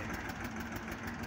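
Massey 375 tractor fitted with a crane, engine idling at a steady low rumble throughout, close and moderately loud with no voices.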